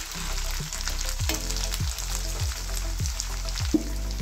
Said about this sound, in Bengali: এবার দিয়ে দিলাম টমেটোটা।